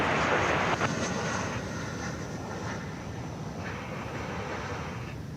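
A Boeing 757, an American Airlines jet arriving from Fort Lauderdale, comes in to land on runway 18 right at DFW airport with a loud, steady broadband engine roar that eases slightly but persists throughout.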